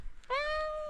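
A cat meows inside a camper van, giving one long, clear, drawn-out meow that starts abruptly after a brief quiet moment and holds steady to the end, close and fairly loud.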